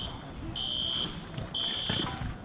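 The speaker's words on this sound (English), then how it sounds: "And someone's alarm is going off." At a busy flea market, an electronic alarm beeps in two sustained high-pitched tones, each lasting about half a second, over a steady background of crowd noise.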